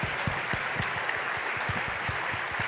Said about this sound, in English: I want also to ask a round of applause to our presenters